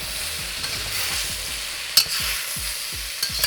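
Snow peas, about four ounces of mushrooms and other fresh ingredients sizzle steadily in a pan for pork lo mein, with repeated scraping stirs and a few sharp clinks of utensil on metal.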